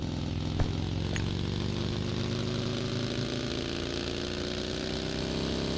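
A game vehicle's engine drones continuously at a steady, slowly rising pitch, moderately loud and unbroken, with no voices.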